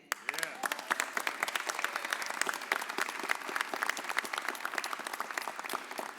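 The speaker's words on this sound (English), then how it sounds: "Can you please give them a hand?" Dense, steady applause from a crowd at a mayor's press conference, clapping for the workers and organizers behind the POWER Act, many hands rattling together continuously from start to finish.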